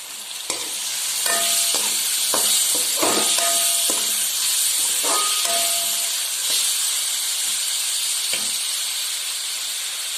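Tomatoes hitting hot oil with frying garlic in a pan for a sardine curry, a loud steady sizzle with repeated stirring scrapes and clatters throughout, no voices.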